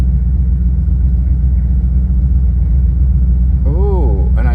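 Car engine idling steadily after an ECU flash with a Super Chips performance chip, a loud constant low rumble close by, running on lower octane fuel; a voice briefly speaks near the end.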